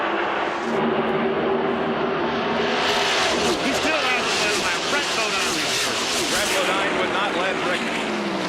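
NASCAR stock cars roaring off at the start of the 1992 Hooters 500, a dense, loud, continuous engine roar of the full field with overlapping passes, rising slightly as the pack builds speed.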